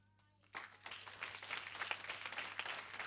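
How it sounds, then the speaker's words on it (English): Audience applause at a soup kitchen's fifteenth anniversary event, a sustained, dense crowd clapping that starts abruptly after a brief quiet moment and keeps steady to the end. "the others will clap for you."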